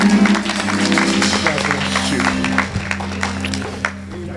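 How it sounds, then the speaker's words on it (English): A church congregation claps along as an elder comes forward, dense rhythmic hand claps mixed with sustained organ or keyboard chords and voices, loud and close, the clapping thinning out toward the end. "Come on, clap your hands as he comes."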